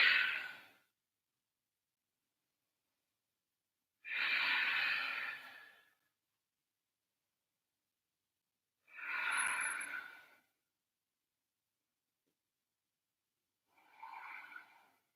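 Slow, deep breaths during a yoga hip mobility flow, four separate breaths spaced several seconds apart with silence between, close and soft, the last one quieter and shorter.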